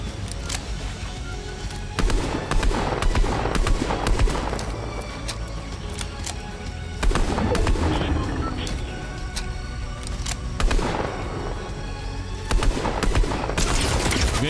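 Video game battle in a battle royale match: repeated bursts of gunfire and automatic weapon fire crackle in clusters every few seconds, some loud and close, over a continuous background of game ambience.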